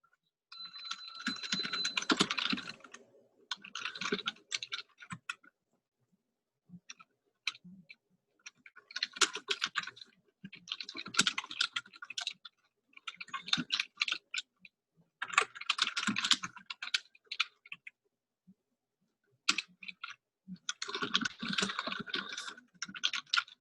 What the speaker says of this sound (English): while I type out the conditions